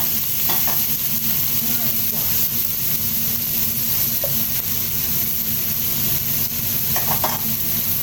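Garlic sizzles in hot oil in a wok for a Thai stir-fry of squid with shrimp paste, a steady, loud, close frying hiss throughout with a few soft clicks of stirring.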